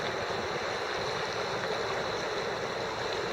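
Steady broadband rush of river water flowing along the Rogue River, continuous and fairly even throughout with no voices.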